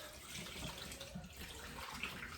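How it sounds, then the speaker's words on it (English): Hot water strained off into a kitchen sink while cooking Nigerian ewa agoyin, a steady close splashing pour filling the whole moment with no talk. "I'm going to strain this off in the sink, like so."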